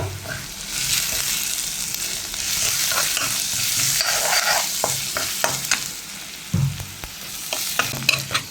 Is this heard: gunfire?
no